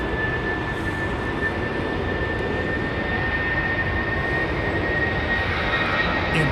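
An airliner on approach to London Heathrow Airport in a crosswind, a steady broad engine roar with a high whine held throughout, fairly distant and even, with no talk over it.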